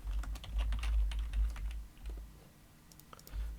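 Keys clatter on a computer keyboard in quick irregular bursts, close and clear over a low hum, pausing briefly midway before a few more keystrokes.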